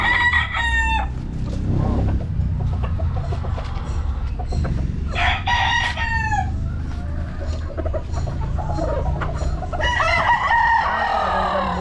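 Red gamefarm stags, young gamefowl roosters, crow repeatedly and cluck close by, loud overlapping calls from several birds against a constant background din.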